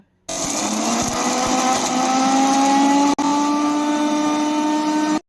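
Mixer grinder grinding urad dal, coconut and tamarind, a loud steady motor whine close by that runs without a break, stops for an instant, then resumes.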